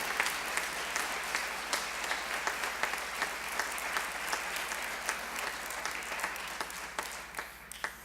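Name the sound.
church congregation applause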